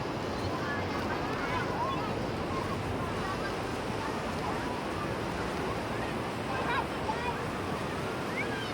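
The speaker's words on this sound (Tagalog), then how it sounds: "andito tayo ngayon sa beach" Waves wash onto a crowded beach in a continuous, even roar, with wind buffeting the microphone during a walk along the shore.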